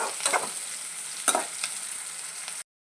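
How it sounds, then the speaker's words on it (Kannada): Spices frying in oil in a home kitchen while being stirred, a steady close sizzle with a few sharper scraping stirs, then a brief cutoff to silence near the end. "ಎಣ್ಣೆಯಲ್ಲೆಲ್ಲ ಫ್ರೈ ಆಗಬೇಕು ಮಿಕ್ಸ್ ಮಾಡ್ತಾನೆ ಇರಿ"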